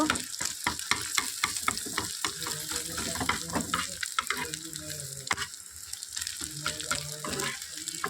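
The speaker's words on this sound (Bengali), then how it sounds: "একটা ডিম একটা ফেটিয়ে ডিমটাকে বুঝিয়ে করে নিচ্ছি হালকা ভেজে নিব ডিমটাকে ভুজিয়া করে নিব" Beaten egg fries and is scrambled in a pan for a homestyle Maggi dish, giving a steady sizzle broken by frequent scraping clicks of a spatula against the metal.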